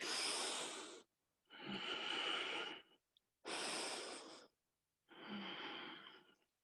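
Slow, deep breathing during a yoga session: four long, loud breaths alternating in and out, each lasting about a second and a half and separated by short silent pauses, close to the microphone with no talk.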